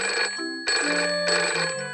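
Cartoon telephone in Peppa Pig rings in a steady electronic melodic pattern, two loud bursts with a short gap, no talking.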